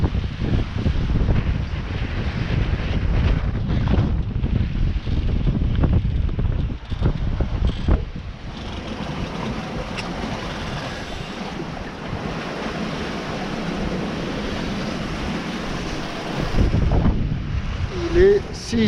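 Strong wind of about 17 knots buffets a sailboat at sea before dawn, with continuous roaring gusts, rushing water and waves against the hull, and a brief swell of louder noise near the end.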